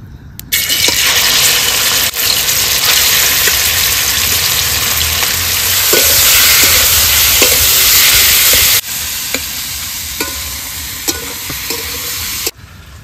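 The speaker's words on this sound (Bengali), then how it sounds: "তেলটা গরম হয়ে গেছে, এবার মাংস দিয়ে দেবো।" Chicken pieces dropped into hot oil in a wok for chicken rolls, giving a loud, steady frying hiss that holds for several seconds, with scattered clinks and stirring knocks and a sudden drop in level partway through, no talk.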